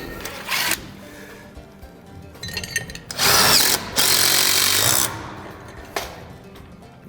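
A power nut driver whirs in bursts, driving a long 8-inch screw through a hanger bracket into a wooden post, with short spins, a louder sustained run in the middle and quiet pauses between.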